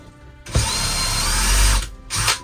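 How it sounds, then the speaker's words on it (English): A power drill runs against the metal wall of a Sprinter van during conversion framing, a loud steady whine lasting about a second and a half, followed by a brief second burst, with no talking. "just press it against the wall and take the drill again and just mark out on the metal"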